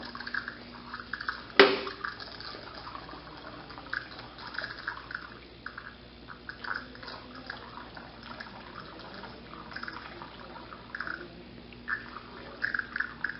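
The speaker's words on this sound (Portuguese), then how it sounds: "E ela já começou a circular água. Ela demora um pouco até sair todo o ar do sistema hidráulico dela." A coffee maker with an error 5 fault circulates water to purge air from its system, making faint trickling and dripping sounds with a sharp knock near the start and small gurgles throughout.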